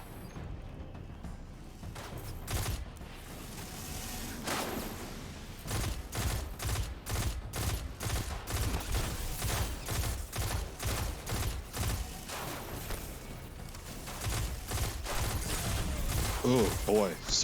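Rapid gunfire from the video game Destiny 2, a dense run of repeated sharp bursts at moderate level with short gaps, layered under game sounds.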